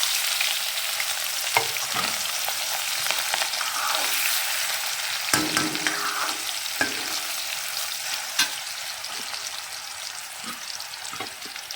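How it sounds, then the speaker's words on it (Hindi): Onions frying in hot oil with a bay leaf, producing a loud, dense, continuous sizzle close up, with scattered stirring knocks and crackles throughout. "अभी मैं तेल गरम हो गया तो एक तेज पत्ता मैंने इसमें डाल दिया है। उसके बाद डाल दूँगी इसमें खूब सारे प्याज।"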